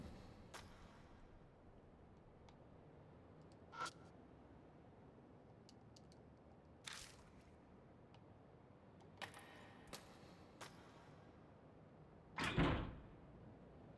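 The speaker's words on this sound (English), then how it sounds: "I hear a noise like something slamming against the door." A video game sound of something slamming against a door in a horror game, faint scattered knocks and thuds ending in a louder bang over a quiet hiss.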